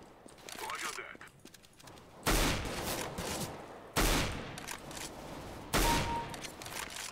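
Video game gunfire: three loud, sharp bursts of shooting at intervals over steady background game noise, with players talking throughout.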